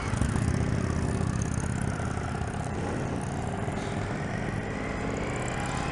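An Indian FTR 1200S, a 2019 V-twin motorcycle fitted with an Akrapovic exhaust, rumbles loud and close with a dense, steady engine drone that holds without a break and without talk.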